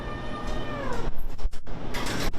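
Kittens left in a cage at an animal shelter meow in thin, high cries, a couple of calls followed by rattling and shuffling noises nearby.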